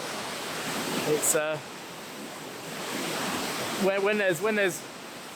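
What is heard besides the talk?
Beasley Falls waterfall in the Yorkshire Dales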